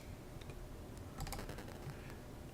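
Light typing on a computer keyboard while entering text for a thumbnail, a brief cluster of soft key clicks, faint and close, with no voices.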